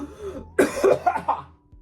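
A man coughs several times in a short, harsh burst cluster, close and fairly loud, with a brief rough throat sound trailing at the end and no talking.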